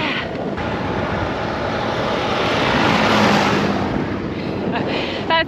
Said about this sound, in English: That's the coolest tractor ever.